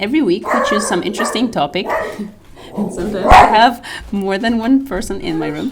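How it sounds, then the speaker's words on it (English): A dog barks and yips in a room with someone speaking, the bursts loud and close and mixed in among the talk. "Sorry, that's my dog."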